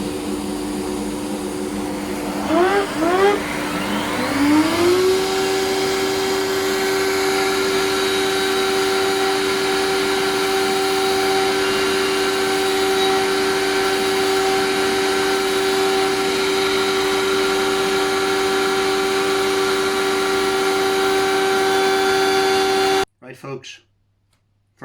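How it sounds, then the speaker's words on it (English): Table saw or router cutting a mortise in a mitred wooden keepsake box, a machine spinning up to a loud steady whine that holds for around twenty seconds before stopping abruptly, close and dominant. "first mortise is cut"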